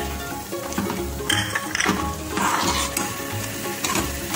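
Vinegar, soy sauce, chili sauce, crushed coriander seeds and black pepper fry in a pan for chicken fajita, a loud continuous sizzle broken by scraping stirs close up.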